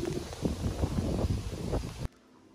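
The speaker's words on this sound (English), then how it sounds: "Look at that wind." Strong headwind at Virginia Beach roars and buffets loudly across the microphone in gusty surges, then cuts off abruptly into near quiet.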